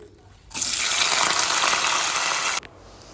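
Onion, tomato, curry leaves and green chilies hit hot oil, setting off a sudden loud burst of sizzling that holds steady for about two seconds and then cuts off abruptly, heard close up and alone.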